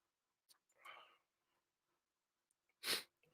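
A single loud human sneeze bursts out near the end, preceded by a short breathy inhale and faint rustling; the person is audibly sick, and no other sound competes with it.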